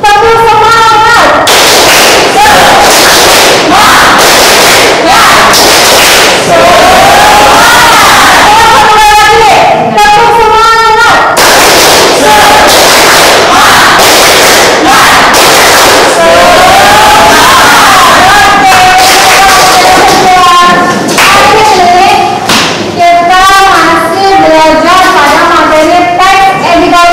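A crowd chants and claps loudly together in a group motivational cheer, voices shouting in unison over rhythmic clapping that continues for nearly half a minute.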